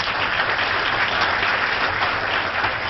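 Audience applause at a community memorial breakfast, a sustained, even wash of clapping from a roomful of people.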